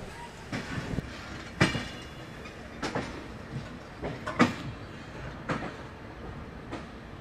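Indore Humsafar Express moving along the line, with a steady rumble inside the coach and repeated sharp clickety-clack wheel knocks at irregular intervals, fairly close and with no voices.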